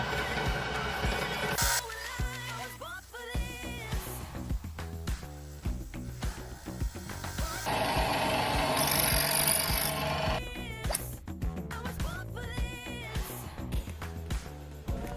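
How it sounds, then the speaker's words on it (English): A Colchester lathe machines a part for a hydraulic workshop press built from scrap, giving a continuous busy mechanical whir with scraping cutting noise and shifting tones, fairly close and steady throughout with no talking. "Here we are on the Colchester lathe, but with the old machine ASMR going on,"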